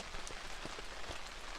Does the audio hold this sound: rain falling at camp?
yes